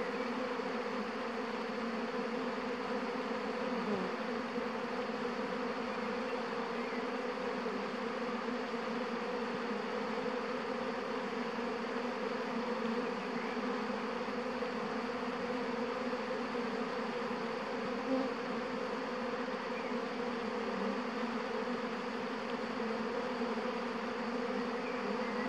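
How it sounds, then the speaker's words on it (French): A swarm of honeybees pouring out of the hive makes a dense, constant buzzing drone that fills the air all around, steady and unbroken with no voices. "J'ai des abeilles partout autour de moi."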